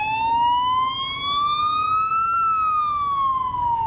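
An ambulance siren wails loudly and continuously at an emergency scene after an attack, its tone sweeping slowly up and then back down, with low traffic rumble underneath.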